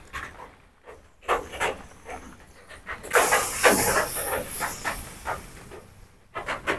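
Spice paste fries in a pan with green chilies, giving a hissing sizzle that comes in uneven spurts and then swells into a louder, sustained sputter midway before easing off.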